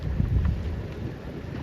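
Wind buffets the microphone during a youth sabot sailboat race, a steady low rumbling roar close by with gusty swells and no talk.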